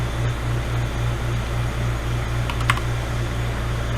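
Password keystrokes tapped on a computer keyboard at a workstation during an SSH login demo, a few scattered clicks over a steady low electrical hum and fan noise, with no talking.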